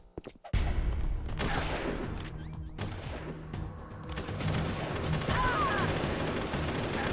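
Heavy gunfire in Metal Gear Solid: The Twin Snakes on GameCube bursts in abruptly after a brief quiet start, then continues as a dense, loud rattle of shots mixed with other game effects.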